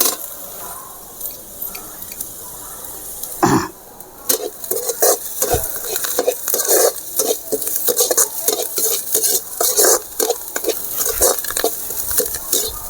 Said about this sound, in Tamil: அதனால் இது அப்படியே நல்லா வதங்கட்டும்.